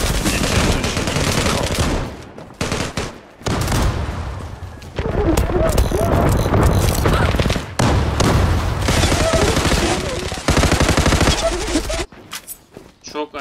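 Dense gunfire and bomb blasts in the online shooter Zula, loud and near-continuous with brief gaps, heavy bursts rolling over one another, with a player's voice talking over the battle.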